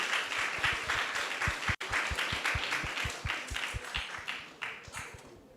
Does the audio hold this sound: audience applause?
yes